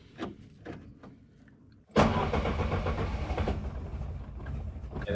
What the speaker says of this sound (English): The choke's actually raising the revs now, whereas it wasn't yesterday, hardly at all.